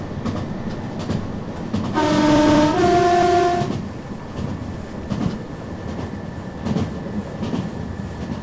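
A simulated train horn in the openBVE game sounds for a level crossing on the Birmingham Cross City South line, two loud sustained tones in sequence lasting about two seconds over steady rail rumble and clatter.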